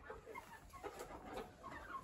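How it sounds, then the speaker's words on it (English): Farm chickens cluck softly in short, scattered calls, faint and close by in a quiet pen, with no talking over them. "Couple chickens in here."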